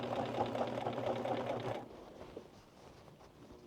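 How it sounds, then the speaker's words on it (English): Sewing machine top-stitching around a pocket on denim jeans, running in a fast steady rattle for about two seconds before stopping, leaving quiet room noise. "All I'm going to do is just sew around that, trying to keep it straight because it is a different color than the denim"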